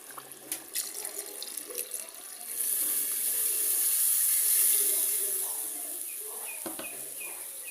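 Water pours into a curry pan over a few seconds, a rushing splash that swells and fades, with crickets chirping faintly behind it.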